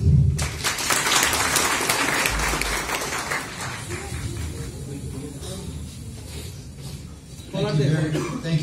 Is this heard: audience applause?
yes